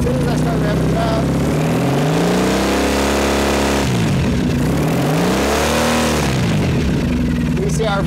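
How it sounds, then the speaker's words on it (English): A Triumph 900 motorcycle engine revs up and down twice, the pitch rising and falling in smooth sweeps, loud and close. "as soon as I start revving it up"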